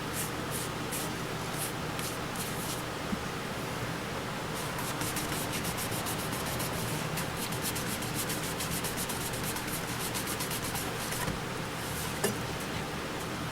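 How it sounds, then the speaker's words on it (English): An end grain wooden bowl being sanded, a steady close rubbing hiss, with rapid rhythmic scratchy strokes appearing over the middle stretch. "It's just a matter of sanding it a little bit longer than I do."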